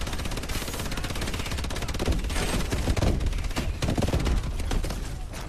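Rapid dense barrage of swarm missiles launching in Call of Duty: Advanced Warfare, loud continuous bursts of firing and explosions with no letup.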